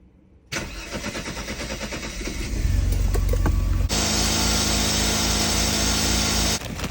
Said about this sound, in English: we're gonna turn the car on right now